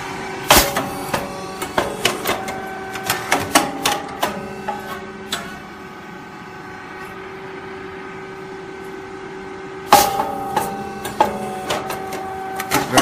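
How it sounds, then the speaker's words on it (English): A compact pastry machine runs with rapid, repeated mechanical clacks and whirs. It pauses into a quiet hum, then starts up loudly again. "touch the sensor, the machine is moving again"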